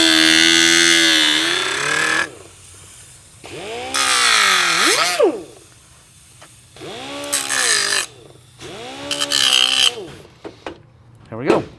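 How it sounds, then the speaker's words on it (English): A die grinder with a cut-off wheel cuts metal on a motorcycle shift shaft in loud, high whining bursts that spin up and wind down several times, with gaps between cuts. "So I've just got a die grinder. Cut-off wheel."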